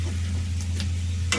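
Chicken fry cooks in a pan with curry leaves, a steady sizzle and spatter of oil running throughout, close and even, with a low stove hum beneath and a few brief sharper crackles.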